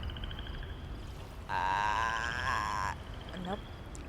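A person imitates a frog croak with a sustained, buzzy, vibrating throaty sound lasting about one and a half seconds, heard alone against a soft background hiss.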